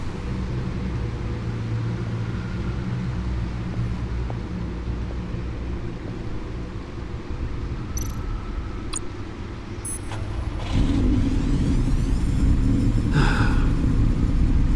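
A powerful car engine of over 600 horsepower in Batman: The Enemy Within, a loud continuous low rumble that holds steady, then surges to a heavier roar near the end, with a few brief high chirps on top.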